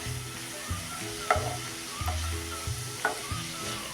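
Grated radish stir-fried with sugar and ground cumin hisses in a pan while a spoon scrapes and turns it, a few sharper clinks marking each stir over a steady sizzle.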